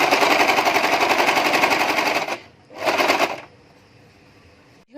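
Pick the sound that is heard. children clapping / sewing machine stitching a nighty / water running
sewing machine stitching a nighty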